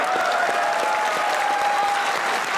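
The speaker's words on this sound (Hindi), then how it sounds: "इनके लिए एक बार तालियां होनी चाहिए" A studio audience at the Pakistani TV comedy talk show Hasna Mana Hai claps steadily, a dense, even wash of applause lasting the whole moment.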